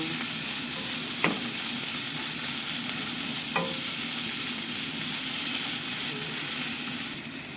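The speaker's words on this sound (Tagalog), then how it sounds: "naglagay na ako ng giniling. Igisa po natin ang giniling." Ground meat sautéing in a pan for a Filipino vegetable stir-fry, a steady loud sizzle with a few sharp scrapes of a utensil stirring, no talking.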